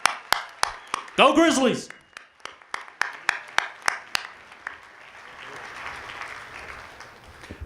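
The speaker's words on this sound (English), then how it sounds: "Give yourself a big round of applause." New students at a university convocation break into applause, first sharp separate claps and a brief cheer, then scattered claps that settle into a softer crowd murmur; a voice calls out over the clapping.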